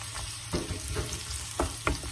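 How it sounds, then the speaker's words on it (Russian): Diced onion fries in a pan with a steady sizzle, punctuated by a few soft scraping strokes of a spatula, close and unaccompanied by speech. "Обжариваем лучок."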